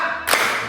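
A single sharp burst of clapping from women at a church retreat seminar playing a counting clap game, one brief unified clap in a quiet hall.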